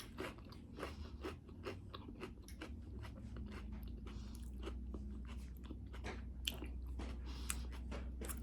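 Crisp, crunchy bites and chewing of a raw bell pepper filled with cream cheese and coated in Cheetos, repeated close-up crunches and wet mastication sounds throughout with no talking.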